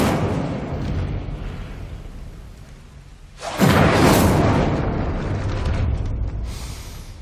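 A fiery spell blast from Hogwarts Legacy bursts out with a sudden loud whoosh and boom after a quieter stretch, then rolls on as a sustained roaring rumble.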